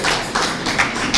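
Dense applause for St. Maurice Mwira girls rises in short surges from a gathered crowd at a team flag-off ceremony, many hands clapping close by in a brief burst.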